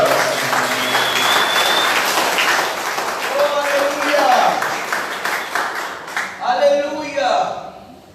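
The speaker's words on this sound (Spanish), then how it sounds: "Démosle un aplauso a la palabra de Dios." A church congregation claps steadily for several seconds, warm and sustained, while a voice carries on over the applause.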